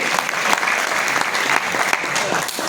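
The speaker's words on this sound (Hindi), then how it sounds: "एक बार जोरदार ताली बजा दो" A seated audience at a stage function bursts into loud, sustained applause, many hands clapping in a dense, steady patter from start to finish.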